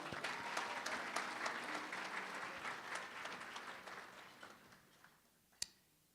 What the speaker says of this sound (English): Please give a round of applause for that.